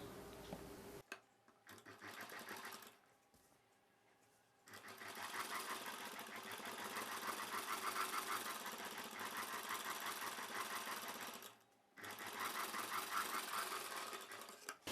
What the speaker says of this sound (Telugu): ఈ కుట్టు పై వైపునే మరలా ఇంకొక స్టిచ్ వేసేసుకోవాలి